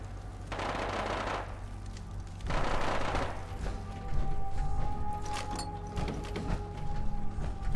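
Gunfire in the Fallout 4 video game rattles out in two sustained bursts, the first near half a second and the second around two and a half seconds, followed by scattered lighter shots and game ambience.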